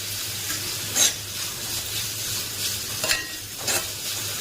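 Chopped tomato and coarse ground paste fry with onion in a pan for a potato curry, a steady hiss punctuated by a few short clinks and scrapes of stirring, no talking.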